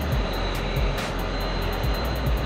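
A Thunderbirds jet roars loudly and steadily from inside the cockpit during a ride-along flight, a dense broadband engine rush with a faint repeating ticking on top.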